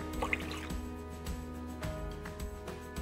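Water poured into a mixing bowl holding a beaten egg and milk for fry bread dough, a close liquid splash and trickle with a few sharp drips and clinks over a steady kitchen hum.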